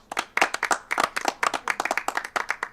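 Rapid clapping from a Stream Deck sound-effect button, a burst of crisp hand claps in quick irregular succession, loud and close with no talking.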